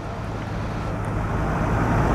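Tractors roll past in a harvest festival parade, a steady broadband engine rumble with a low droning hum that holds loud and close throughout, with no talk over it.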